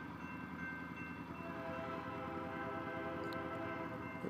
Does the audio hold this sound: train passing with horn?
yes